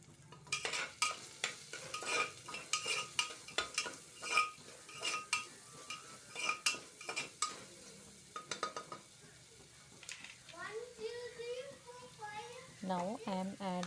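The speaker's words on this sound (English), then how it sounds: "Mix everything and cook until the onions becomes transparent." Onions cooking in a pan with a little salt are stirred in repeated scraping strokes for masala khichdi, close and fairly loud, with a voice speaking near the end.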